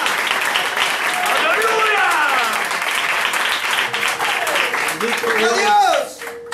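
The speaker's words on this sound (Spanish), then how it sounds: "Le palmas a Cristo" A church crowd claps steadily and loudly, continuous applause layered under singing and shouted voices.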